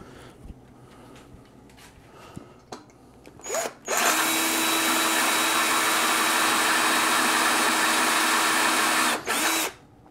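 A power drill bores into the lock of a toy vending machine. After a few faint clicks and handling taps, the motor kicks in as a loud, close, steady whine for about five seconds, then cuts off with a brief final burst.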